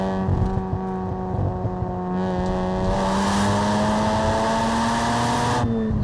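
A Mazda RX-7 FD rotary engine revs hard, its pitch climbing steadily toward about 7000 rpm, then cuts off abruptly near the end; loud and close, with no talking.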